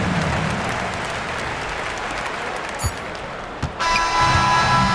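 In an NBA 2K25 basketball game, a crowd applauds and cheers a home-team win in a steady roar, with a few sharp knocks near the end and a bright tone coming in over the crowd.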